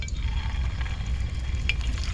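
Raw rice snack pieces frying in hot refined oil, a dense continuous sizzle and crackle close up, with no voices.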